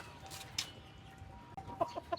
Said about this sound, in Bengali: এই যে আপনাদের সামনে সেই অবিশ্বাস্য সেই মুরগি